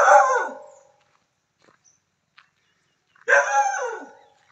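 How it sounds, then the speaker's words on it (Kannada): A guard dog on a farm resort lets out two loud, drawn-out barks or howls a few seconds apart, close to the listener, with near silence and a couple of tiny clicks in between. "ತೋಟವನ್ನು ಕಾಯಲಿಕ್ಕೆ ಒಂದು ಉತ್ತಮವಾದ ತಳಿಯ ನಾಯಿಯೂ ಕೂಡ ಇದೆ."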